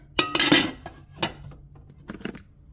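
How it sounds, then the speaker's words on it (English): A lid set onto a ceramic slow cooker crock pot, a bright clattering clink of glass on stoneware with a short ringing rattle, followed by a softer second knock as it settles, close and sharp. "I'm just gonna pop on this lid."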